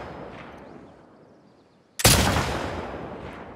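A single loud rifle shot in The Last of Us Part 2 cracks sharply after a quiet stretch, then a long rolling echo decays over the following second and a half.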